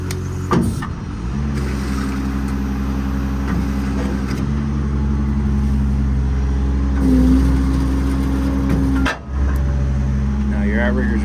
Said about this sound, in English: we'll go ahead and extend the outrigger.